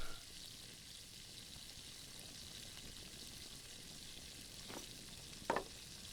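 A pot boiling over a campfire in The Last Plague: Blight, a faint, steady bubbling hiss with occasional soft pops and a brief louder crackle near the end.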